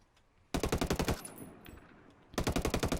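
Full-auto bursts from an FN FAL rifle in the video game Ghost Recon Wildlands: a loud rapid burst of about ten shots, a brief pause with echoing tail, then a second sustained burst, with no talking.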